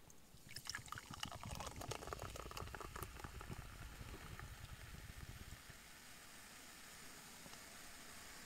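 Liquid pours and fizzes into a cup for several seconds, bubbling loudly at first and then settling into a faint hiss.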